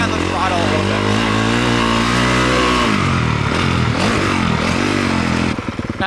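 A motocross motorcycle engine roars loud and close throughout, its pitch shifting up and down with throttle changes around a jump landing, the revving dropping and surging again near the middle.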